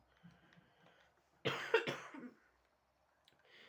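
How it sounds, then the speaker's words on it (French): A single harsh cough bursts out near the middle after faint quiet sounds, followed by a brief rougher tail, then near silence. "désolé si je tousse un peu"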